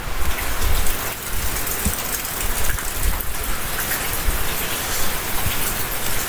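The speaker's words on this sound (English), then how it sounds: "Still raining a bit." Steady rain falls outdoors in a dense, loud, continuous hiss with scattered heavier drops and gusty surges, with no voices over it.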